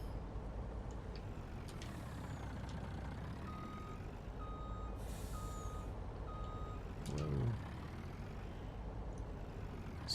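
A truck in Farming Simulator 19 backs up with evenly spaced reversing beeps over a low, steady diesel engine rumble, heard at a moderate distance, with a brief hiss-like release near the end.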